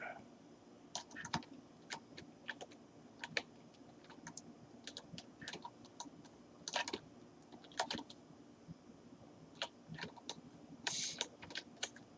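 Computer keyboard keys tapped irregularly while steering a spaceship in a Unity game, faint and close, with scattered sharp clicks over a low background hum and no talk.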